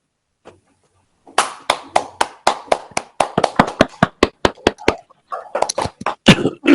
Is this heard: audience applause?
yes